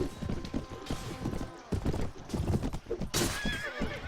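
Horses gallop and neigh in a Mount & Blade Warband mod battle: rapid loud hoofbeats with sharp whinnies, one shrill neigh standing out near the end, amid battle noise.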